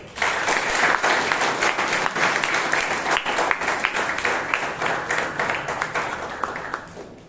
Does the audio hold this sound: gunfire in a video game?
no